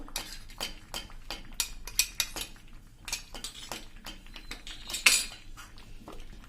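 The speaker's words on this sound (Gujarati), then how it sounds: "હવે આ બધા મસાલા આપણા પાકી જાય ત્યાં સુધી આપણે થોડીક વાર હલાવશું આમને મીડિયમ ફ્લેમ ઉપર જ" A spoon stirs spices in a pan over a medium flame, giving quick, irregular metallic scrapes and clinks, close and fairly quiet, with no talking.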